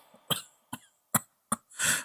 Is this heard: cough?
yes